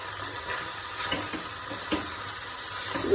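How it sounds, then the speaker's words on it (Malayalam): Grated carrot, cabbage and onion are stirred in a hot pan, giving a steady close sizzle with soft scraping strokes of a spoon through the vegetables and a few louder knocks near the end. "നന്നായി ഇളക്കി കൊടുക്കും."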